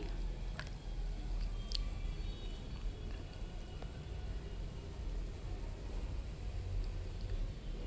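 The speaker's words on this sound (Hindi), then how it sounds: "कुछ देर के लिए इसे मिक्स करते हुए हाथों से मैश करूँगी और इसमें मोयन लगाऊंगी" Three cups of refined flour for khaja being mashed and mixed by hand with added fat, giving a steady, close, soft squishing and kneading sound with small crackles, continuous throughout and with no talking.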